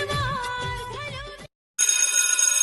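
A telephone rings loudly with a bright electronic tone, breaking off briefly and then resuming, close by and with no voices.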